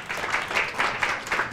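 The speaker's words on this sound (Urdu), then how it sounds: "تالیاں بجائیے ان کے لیے." Applause from a studio audience at a live Ramadan iftar television show, a short burst of clapping that pulses in a few waves and fades within moments.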